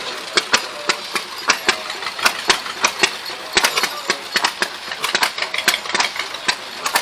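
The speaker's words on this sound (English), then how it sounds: "It's an oil well engine." A 1940 Superior oil well hit-and-miss engine with a 6.5-inch bore and 8-inch stroke runs close by, giving sharp rhythmic exhaust pops over a low mechanical rumble, steady and loud.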